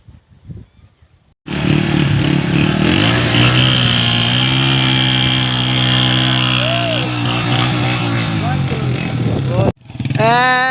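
A Honda 70 motorcycle engine catches and runs loud and close with a steady, buzzing revving drone, then cuts out abruptly near the end, with people talking before and after.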